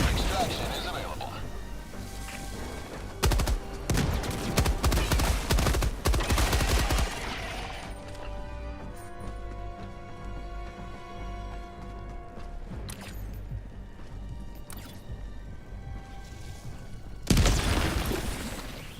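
Gunfire and grenade blasts from Helldivers: dense, loud bursts of automatic fire and booming explosions, then a quieter stretch of mechanical clanks and tones, and a final burst of shots.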